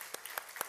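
At a church worship gathering, the congregation claps together once. A few sharp, separate claps ring out in quick succession against a quiet room.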